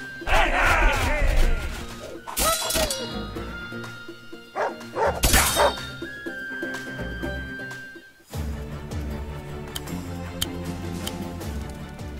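A cartoon dog in the Wargroove strategy game gives a few yappy barks and yips over game music and ticking interface sounds, with no talk.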